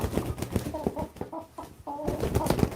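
Chickens, including a big black hen, cluck in short repeated bursts close by while feeding on corn, mixed with scratching and rustling noise and some background movement.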